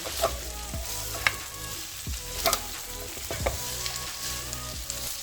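Herbal salted pork with lemongrass, kaffir lime leaves and garlic sizzles and fries steadily in oil in a pan, with close scraping and stirring knocks recurring throughout.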